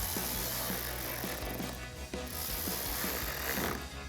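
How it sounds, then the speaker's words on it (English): Ratchet with a 7mm socket tightening bolts on a 2021-2023 Ford F-150 grille during a headlight install: rapid, close clicking of the pawl in short bursts, pausing briefly midway. "Then we'll grab our ratchet and 7mm socket."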